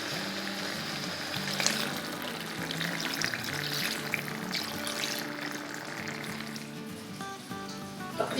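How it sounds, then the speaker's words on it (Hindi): Hot oil for an aloo chicken curry sizzles loudly while water is poured in, giving a continuous crackling, bubbling hiss close by that gradually settles, with no one talking. "अब हम अपना पानी डाल देते हैं, शोरबा जितना हमें बनाना है उस हिसाब से।"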